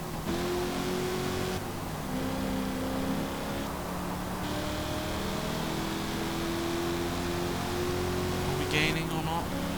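A Ford V8 car engine accelerates in Forza Motorsport, a steady droning roar with rising harmonic pitch sweeps as gears change, loud and continuous, with a voice talking over it.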